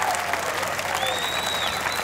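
Concert audience applauding, a dense steady patter of many hands clapping close by for a couple of seconds, with a faint whistle-like tone rising over the crowd.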